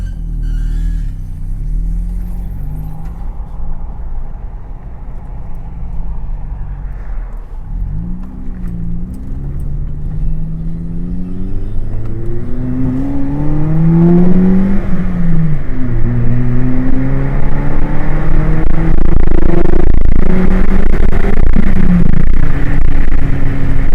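A 2005 Mazda 3 engine with about 175,000 on the odometer hums steadily, then revs and accelerates through several gear changes, the rising-and-falling pitch growing louder as it drives along the road.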